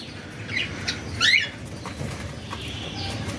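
Newly bought pet birds, including black Java sparrows, flutter their wings and give a few thin, high chirps at close range, over a steady low background hum with no talking.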